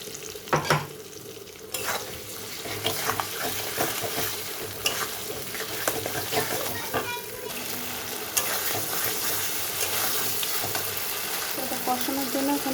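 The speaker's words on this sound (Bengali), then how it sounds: "এখানে দিয়ে দিচ্ছি আমি পালং শাক বাটা।" Spinach paste sizzling steadily in a pan while a utensil stirs and scrapes through it, a close continuous frying hiss broken by occasional knocks, with no talking.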